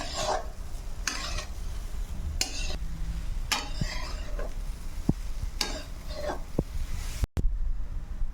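A spoon scrapes and stirs semolina with cardamom powder and ghee in a pan with a soft background sizzle, rhythmic scraping strokes repeating every second or so.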